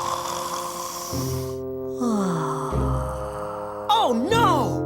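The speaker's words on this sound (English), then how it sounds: "Snoring Beauty fell into a deep snore." A cartoon character snores in a children's story, sounding in long, drawn-out, exaggerated breaths with wavering pitch. The snores are loud and close, with swooping musical tones around them.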